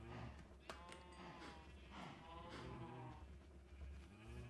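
Minecraft cows mooing in a video game, several drawn-out bovine calls overlapping one another at close range, loud and continuous, with no talking.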